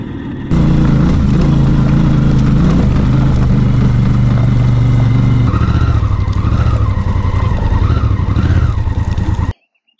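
A motorcycle on worn Continental ContiTrailAttack 3 tyres pulls away, its engine starting abruptly and holding a loud, close, steady drone before rising through revs and cutting off sharply near the end.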